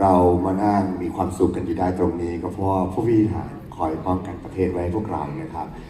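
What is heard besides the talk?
No everyday noise stands out behind the speech.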